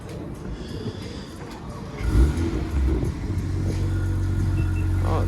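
A car fitted with an aftermarket exhaust revs up, a deep rumbling surge building from a steady idle into a louder, sustained drone close by.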